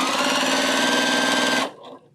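A sewing machine stitches quilt block pieces in one steady, loud, continuous run that stops abruptly near the end.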